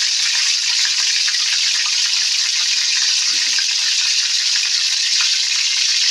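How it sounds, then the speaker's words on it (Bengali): Fish fat drops into hot oil and sizzles loudly in a continuous, hissing wash of frying that stays steady and close throughout, with no talk over it. "তেলটা গরম হয়ে আসছে, এবার দিয়ে দিলাম এই যে মাছের তেল"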